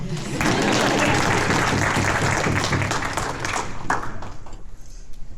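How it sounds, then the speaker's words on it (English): A crowd at a celebration of life memorial bursts into sustained applause, loud and dense, holding steady for several seconds before thinning out into scattered claps. "Yeah, you can clap."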